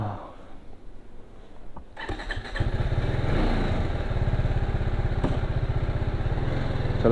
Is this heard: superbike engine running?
yes